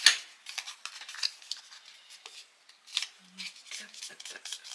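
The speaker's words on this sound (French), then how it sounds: "Alors, on plie, on fait attention, on y va doucement, tranquille." Paper being folded and creased by hand for a handmade photo frame, soft crinkling and rubbing strokes in short bursts, close and quiet, with brief faint speech in between.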